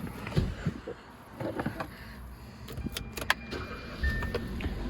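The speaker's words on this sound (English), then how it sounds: "start the car" A Hyundai Accent engine cranks and catches after a transmission oil change, with clicks and mechanical clatter around the start, then a steady idle heard close up.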